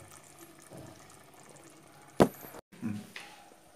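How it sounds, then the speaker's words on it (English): A little water tipped into simmering Kerala fish curry (vatta meen mulakittathu) in a pan, a short splash after a quiet bubbling background, followed by a softer second pour and light clatter. "I'm gonna add little water."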